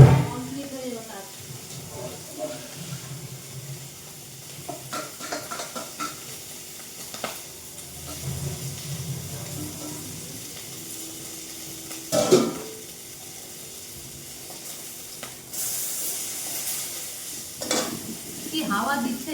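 Boiled fish cooking in a pan in a home kitchen, a low intermittent sizzle with stirring and scraping in a few bursts, plus occasional clatter of utensils. Someone talks now and then.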